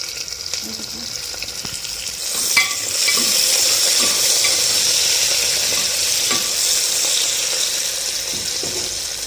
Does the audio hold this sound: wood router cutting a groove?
no